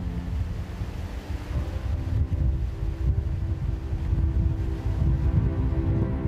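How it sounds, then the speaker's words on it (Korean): Strong wind sweeping over Mabuni hill on the Okinawa coast, a steady low roaring rush with buffeting gusts, constant throughout and without voices. "마브니 언덕엔 그날을 기억하는 듯 세찬 바람이 불어댄다"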